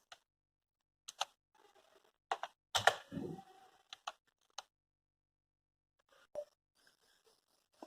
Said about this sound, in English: Let us type something.